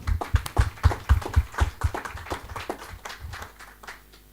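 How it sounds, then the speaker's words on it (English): Audience applause at a 35th anniversary celebration for PENHA, a pastoral and environmental network in the Horn of Africa, heard as a near, loud, rhythmic round of clapping that fades out after a few seconds. "May we clap for them."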